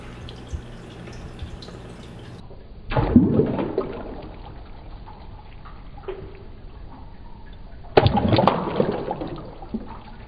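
Two sudden bursts of splashing water a few seconds apart as a fish splashes in a tank, with faint drips and ripples between them, fairly close.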